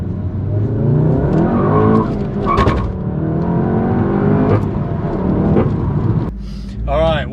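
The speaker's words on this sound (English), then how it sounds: "This car is mega. We're going to take it for a drive." A Volkswagen Golf GTI Clubsport S driving, the engine note rising and falling through repeated revs with loud, near gear changes, a brief sharp tire chirp, and then a final burst of acceleration.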